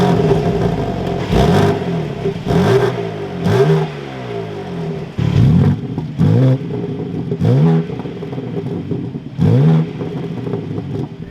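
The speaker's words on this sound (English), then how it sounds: "let's fire up this M4" A 2023 BMW M4 Competition xDrive Coupe engine barks into life and is blipped repeatedly, about seven sharp revs rising and falling in a rhythmic series, loud and close with a burbling exhaust idle between.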